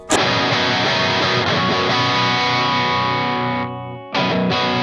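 Loud, heavily distorted electric guitar sustains a thick chord, then briefly drops to a thinner, quieter tone before snapping back to full distortion as effect settings switch.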